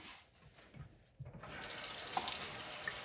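Water runs from a tap over a solar garden light being rinsed, a steady hiss that swells louder after a quieter, patchy start.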